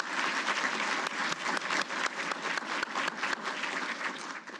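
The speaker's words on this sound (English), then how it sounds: "I would ask you to give yourselves a round of applause." An audience at a 2019 DLA awards ceremony breaks into a dense, sustained round of applause that holds steady and loud throughout, with no talking over it.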